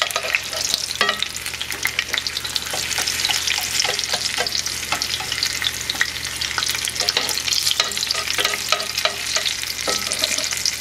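Chile rellenos, stuffed chile peppers, frying over medium-low heat in a cast iron pan, a dense continuous sizzle and crackle with spatula scrapes and stirring, heard alone without talk.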